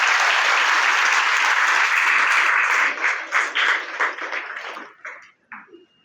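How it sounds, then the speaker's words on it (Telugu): Loud, dense applause from an audience honouring a centre's organisers and teachers at a Mahbubnagar gathering, sustained at full strength for several seconds before thinning into scattered final claps. "వాళ్ళందరికీ ఒక పెద్ద క్లాప్స్ కొట్టి వాళ్ళని అభినందిద్దాం"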